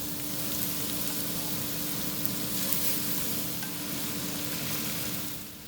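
Pork ribs, sausage and bacon with garlic sizzling in a pan for Brazilian feijoada, a steady, close, dense frying hiss with no voices.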